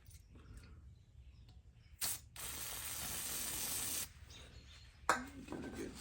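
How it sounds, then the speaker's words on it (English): Aerosol brake cleaner sprayed onto the carburetor area of a Kawasaki 19HP lawnmower engine: a close, steady hiss lasting about two seconds, a sharp click, then a quieter short spurt. "I'll put a little brake clean on it."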